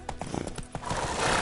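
A horse in The Witcher 3 whinnies and its hooves clop in a brief, close burst, the galloping swelling louder toward the end.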